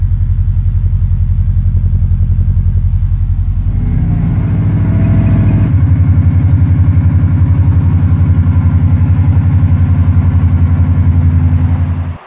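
A 2007 Subaru STI engine runs loud and close, its rumble shifting partway through before settling into a steady, throbbing idle that continues to the end.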